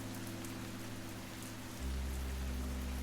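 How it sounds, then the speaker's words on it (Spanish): Rain beats steadily on a car windshield, a constant hiss of drops with a low engine-like hum that deepens partway through, no voices. "La lluvia golpeaba el parabrisas con una intensidad que hacía que los limpiaparabrisas lucharan inútilmente contra el agua"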